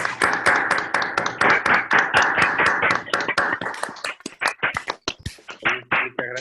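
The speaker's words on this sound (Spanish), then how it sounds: "un aplauso para la mesa." An audience at a psychoanalysis conference applauds the panel with steady, close rhythmic clapping that thins into scattered, separate claps near the end, with a voice faintly underneath.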